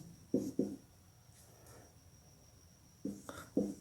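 Pen or marker writing a sentence in an English grammar lesson: a few short scratchy strokes, a quiet gap, then another cluster of quick strokes, close and moderately loud.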